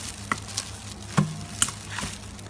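Fruits and vegetables for rojak are tossed with rojak paste, a few soft scraping and squelching stirs, close and fairly quiet, over a faint background hum.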